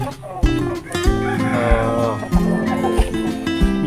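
Backyard farm chickens kept for eggs cluck and call close by in short repeated bursts, with someone talking over them.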